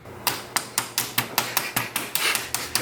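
A hammer strikes a rivet on a 2019 Honda Civic Type R FK8 during a cold air intake install, about a dozen sharp, loud metallic blows in a fairly even rhythm, close by and with no talk.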